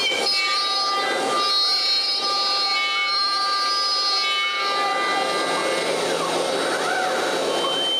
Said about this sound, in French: pourquoi pas m'en servir pour percer une partie des trous?